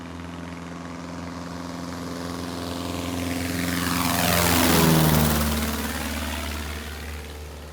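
A small propeller airplane takes off from a ranch airstrip, its engine swelling steadily louder as it passes close by, with a Doppler drop in pitch at the peak before the drone fades away.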